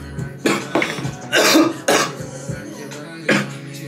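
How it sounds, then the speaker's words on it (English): A person coughs repeatedly in short harsh bursts, about five or six coughs spaced irregularly, close to the microphone with some throat-clearing between them. "I cough all the time."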